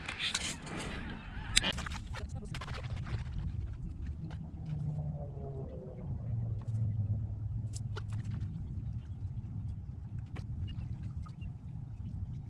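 Geese honk repeatedly in a loose flock during a cold-weather duck hunt, their calls coming from a moderate distance over a low rumbling background, with scattered sharp knocks and no speech.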